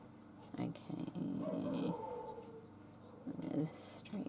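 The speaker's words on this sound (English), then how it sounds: "I'm sorry about that dog barking." A dog barks and growls in a few short bursts indoors, the yaps coming in two clusters at moderate distance.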